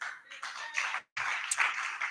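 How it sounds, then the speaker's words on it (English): A small audience at a skills talk claps for a speaker in a short burst of fairly faint applause, broken by a brief silent gap. "let's clap for her."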